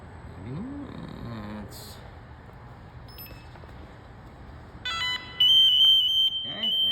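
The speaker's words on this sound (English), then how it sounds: "I've got a pass alarm." A firefighter's SCBA PASS alarm kicks in, beeping briefly and then sounding a loud, steady multi-tone whistle close by, after some quiet mechanical noise.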